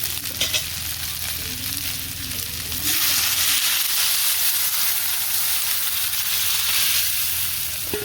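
Steady crackling sizzle of spices frying in a pan, which surges into a louder, hissing rush partway through as curry broth hits the hot oil and keeps bubbling.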